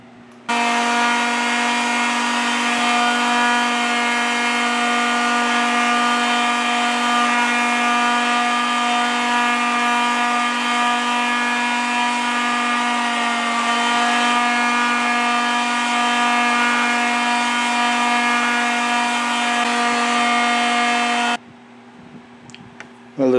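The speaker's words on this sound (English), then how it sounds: "Well, the sanding has reduced the butt plate to more nearly flush with the wood now" A power sander with 60-grit paper works the wooden stock of a Model 1777 French flintlock hunting musket. It gives a loud, steady, tonal motor whine for about twenty seconds, then cuts off abruptly.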